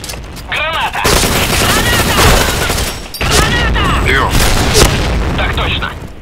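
In the Point Blank shooter game, heavy explosions boom and gunfire rattles in a dense, loud battle mix. A voice talks over the blasts and chirping game effects.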